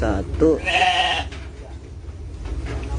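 Goats in a goat pen in Bekasi, Indonesia, including a young kid, give one clear, loud, wavering bleat near the start, followed by quieter pen noise and a voice talking.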